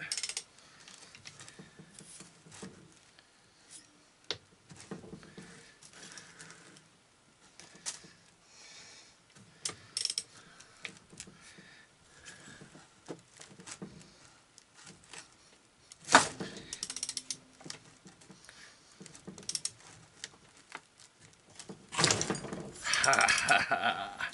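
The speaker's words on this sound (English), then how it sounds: "I'll put the wrench on it. See if we can't rock it a little bit." A wrench rocks a seized Honda Fourtrax TRX 250 engine, giving scattered metallic clicks, clanks and scrapes up close, with a louder clatter near the end.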